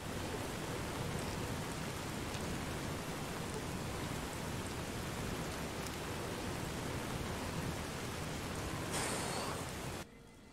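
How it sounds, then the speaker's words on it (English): Steady, dense rain roars without a break in Fallout: New Vegas, a broad hiss that holds level for about ten seconds and then cuts off abruptly at the end. "I'm not gonna talk to him when it's raining like that."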